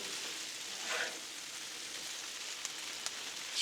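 Chicken and peppers sizzle on a Blackstone griddle as a soft, steady hiss, faint and even, with a few small clicks of a utensil near the end.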